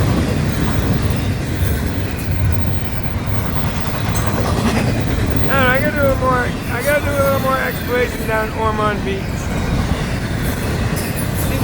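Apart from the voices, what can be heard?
FEC freight train with rock cars passing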